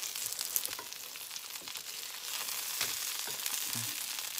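A crispy meat pancake pan-frying in oil, a steady soft sizzle and crackle throughout with faint spatula scrapes as it is turned, no talk.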